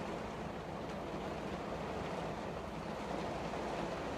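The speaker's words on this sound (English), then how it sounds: "It's pouring down rain." Heavy pouring rain at a shipper's loading dock during a trucking stop, a dense, steady broadband hiss of downpour that is constant and fairly loud throughout, with no voices.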